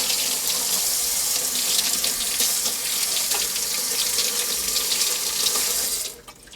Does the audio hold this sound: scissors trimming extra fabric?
no